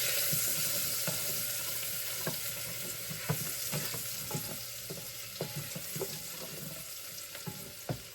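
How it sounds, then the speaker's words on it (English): Garlic sautéing in olive oil and butter in a pan, a steady close sizzle with scattered spits and crackles and occasional stirring taps against the pan. "I've also got some olive oil and some butter in my pan here to saute these ingredients up"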